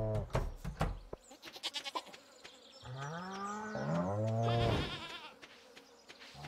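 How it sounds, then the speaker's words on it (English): Farm animals call loudly inside a barn, a long wavering bleat rising and falling after a burst of shorter sounds, with a faint insect-like buzz beneath. "cows and goats are a little angry at me today."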